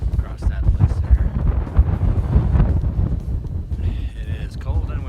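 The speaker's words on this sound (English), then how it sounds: "It is cold and windy today." Cold wind gusts buffet the microphone atop a mountain fire tower above Tellico Gap on the Appalachian Trail, a continuous low rumbling roar with brief faint higher tones near the end.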